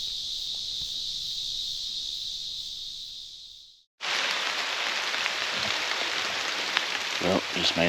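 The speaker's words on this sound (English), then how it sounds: "as soon as I got back here, it's starting to rain" Rain falls through public-land creek bottom woods, a steady broadband patter that rises abruptly after a high, droning insect-like hum fades out, staying moderately loud and even to the end.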